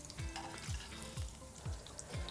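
Paneer frying slowly in a pan, a steady soft sizzle with faint regular low thumps of stirring every half second or so, no voices.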